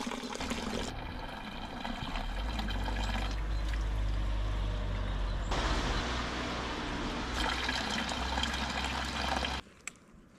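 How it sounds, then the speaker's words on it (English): Water running through a portable filter on a Dolomites hike, a steady pouring trickle that lasts about nine seconds and stops abruptly, close and fairly quiet. "I'm going to stick this in my water filter"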